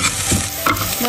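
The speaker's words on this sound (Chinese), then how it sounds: "下葱姜末炒香" Chopped scallion and ginger stir-fried in hot oil in a wok, with a dense steady sizzle and a spatula scraping and tossing up close throughout.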